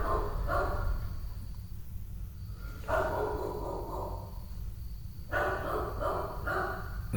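A dog barks in short bursts set off by a doorbell, three or four clusters of barking separated by pauses, heard at moderate distance indoors.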